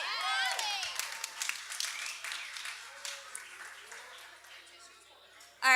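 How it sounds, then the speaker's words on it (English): Wedding reception guests applaud the maid of honor, a soft, fading patter of clapping with scattered voices and cheers that thins out before a sudden loud sound at the very end. "So give Allie a round of applause."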